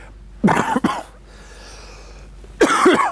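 Two harsh coughs, close and loud, separated by a short pause of quiet breathing.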